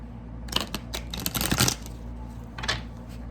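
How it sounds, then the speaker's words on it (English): A deck of tarot cards is shuffled by hand in a series of close, crisp riffling bursts and soft slaps, with short pauses between them and no speech. "very difficult to shuffle."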